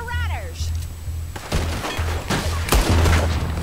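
Gunfire in Red Dead Redemption 2, a few sharp loud shots cracking amid a background of game sounds and music, with a voice talking in between.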